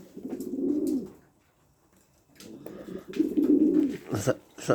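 Pigeons coo in low, throaty bursts, two clear phrases with a pause between, fairly close, with faint chirps and rustling around them.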